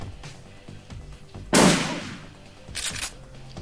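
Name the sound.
gunshots in the video game Shadowrun Returns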